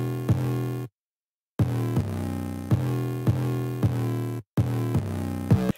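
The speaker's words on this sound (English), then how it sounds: "I layered another 808 from that same kit" Layered 808 bass from a drum kit in an FL Studio trap beat: deep, sustained tuned bass notes hit in a steady pattern, with two abrupt silent gaps, loud and alone.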